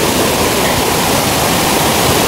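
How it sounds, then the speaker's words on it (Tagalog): Heavy rain pours near a waterfall in Negros Oriental, a dense, steady roar of rushing water and downpour that stays loud and continuous throughout, with no talking. "Lakas ng ulan guys."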